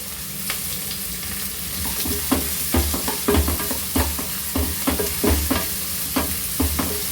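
Onions sauté in a pan with rock salt for brinjal kosthu, giving a bright, close sizzle punctuated by repeated rhythmic scrapes and knocks of a spatula stirring.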